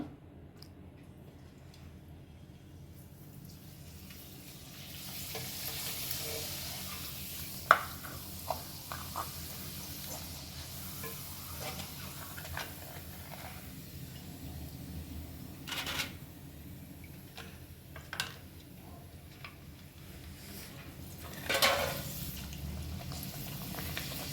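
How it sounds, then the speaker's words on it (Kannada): A thin, dried papad made from leftover ragi balls drops into hot oil, bringing a faint, steady frying hiss with light crackles and a few isolated ticks and pops over about twenty-four seconds. "ಇದನ್ನು ಎಣ್ಣೆಗೆ ಹಾಕ್ತೀನಿ ನೋಡಿ. ಈಗ ಕಾದಿರೋ ಎಣ್ಣೆಗೆ ಹಾಕಬೇಕು."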